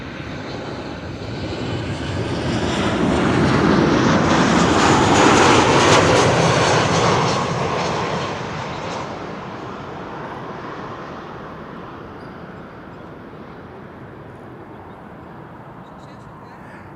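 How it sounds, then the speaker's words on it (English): Boeing 737 jet arriving at Amsterdam Schiphol Airport, a loud roaring engine rush that swells to a peak over the first half then slowly fades, with wind buffeting the microphone. "Over here we have a 737 arriving from Prague."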